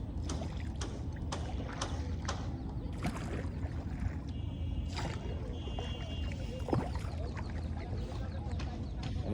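A boat moves across water on a river or lake, with faint ongoing splashing and hull noise. Brief knocks and some distant bird calls are mixed in, and the whole scene is quiet.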